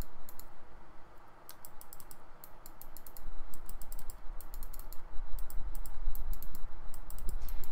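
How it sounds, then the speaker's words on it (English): A Super Mario turtle shell computer mouse clicks repeatedly, giving sharp close clicks in quick irregular clusters over a low background rumble that grows louder partway through. "It does click down as well. And the clicks are actually there."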